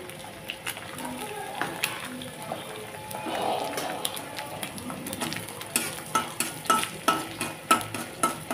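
Egg frying in a pan while being stirred, a soft sizzle under repeated spatula scrapes and clinks that grow more frequent and louder toward the end, close up, with faint background voices.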